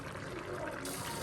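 Pasta water pouring and dribbling as pasta is moved from the pot for an Italian dish, a close, continuous watery splash lasting about a second.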